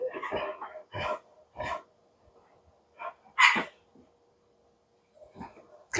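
Dogs guarding a house let out a handful of sharp barks in separate bursts, spaced by quiet gaps, moderately near and loud.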